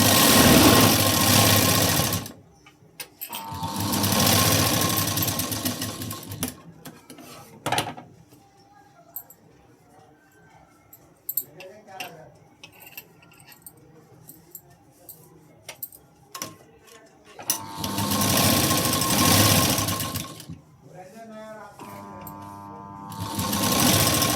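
A domestic sewing machine stitching a katori blouse runs in loud bursts at the start and again near the end, with quieter handling clicks and rattles in between.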